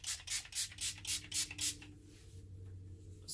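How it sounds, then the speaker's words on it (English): Trader Joe's face spray is misted in a quick series of about seven soft, close pumps in an even rhythm, then stops into quiet room tone. "spray my Trader Joe's spray"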